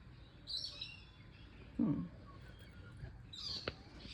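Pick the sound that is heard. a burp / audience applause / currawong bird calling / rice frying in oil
currawong bird calling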